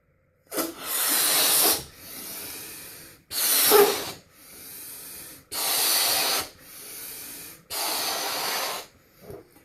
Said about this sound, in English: So when I blow up a balloon